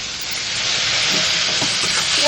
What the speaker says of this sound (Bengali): পেঁয়াজগুলোকে খুব সুন্দর করে ভেজে নেব